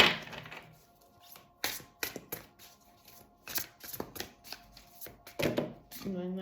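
Twin flame tarot cards are shuffled, flicked and laid down close by in quick riffles and soft taps, while someone speaks in French between the card sounds.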